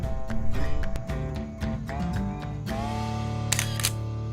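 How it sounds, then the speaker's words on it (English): A single-lens reflex camera's shutter fires long bulb-mode exposures during landscape photography on a New Zealand road trip, its clicks and mechanical snaps appearing as brief sharp transients beneath steady music. "using the shutter release to fire off long exposures"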